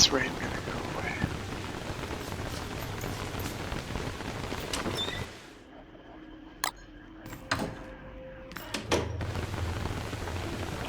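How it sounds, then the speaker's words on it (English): Steady rain from the Don't Starve Hamlet video game hisses through the first half and the final seconds, broken by a quieter middle stretch with a few sharp clicks and knocks, while speech-like sounds drift in beneath the patter. "Is this rain gonna go away?"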